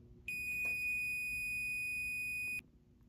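A fire alarm control panel gives one steady electronic beep lasting a couple of seconds after a system reset, clear and alone against a quiet room hum.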